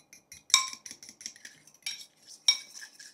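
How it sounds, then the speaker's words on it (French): Utensil whisking a batter of vanilla-flavored soy milk in a bowl, quiet irregular clinks and scrapes against the dish in quick uneven strokes, close and alone. "On va battre le tout, enfin, c'est-à-dire mélanger, quoi."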